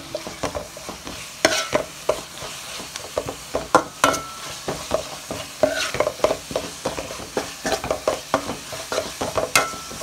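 Raw masala for a vegetable curry being stirred in a hot pan, with repeated spoon scrapes and clacks over a continuous close sizzle, no voices.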